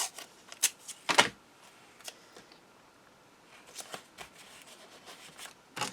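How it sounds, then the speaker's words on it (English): Packing tape being pulled and pressed over the top of a box holding a landscape-format album, heard as a few sharp ripping bursts and crackles between quieter handling noises, close and alone. "So I'll just put some tape over the top."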